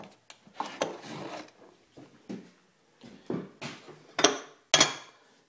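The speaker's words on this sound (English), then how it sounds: "then I'm going to take my brand new mill file and put a real nice chopping edge on there" A brand-new mill file rasps along an axe's chopping edge in a series of short, uneven strokes, ending with two louder, sharper metallic scrapes close to the microphone.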